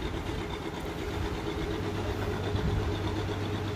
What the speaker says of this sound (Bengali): দেখতে পাচ্ছেন ধীরে ধীরে কিন্তু লঞ্চটি বার্থিং করছে।